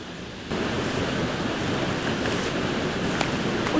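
Heavy rain pours down hard enough to bring a flood, a dense steady roar of broadband noise that swells after a quiet first half-second and then holds constant.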